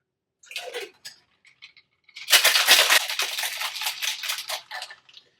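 Cocktail shaker with a margarita being shaken, a few sharp clinks of ice first, then a loud, steady rattling churn of ice and liquid lasting a few seconds before it stops.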